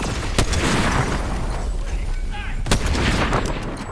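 Gunfire in the video game Fortnite: two sharp, loud shots about two seconds apart stand out over dense game noise and background chatter.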